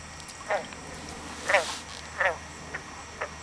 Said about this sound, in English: Hey, you hear the frogs?